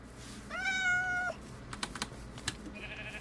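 A cat in the video game Minecraft lets out one clear, drawn-out meow up close, followed by a few sharp clicking taps.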